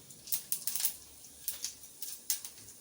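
Quiet, intermittent crisp crackles and pops in small clusters as mustard and cumin seeds splutter in hot oil.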